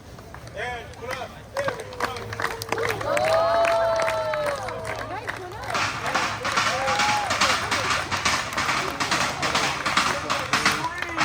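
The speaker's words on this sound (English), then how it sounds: "Put your hands together." An audience claps together at a Hawaiian cultural show, the dense patter of many hands building in the second half and running steadily to the end, with talk and crowd chatter before and beneath it.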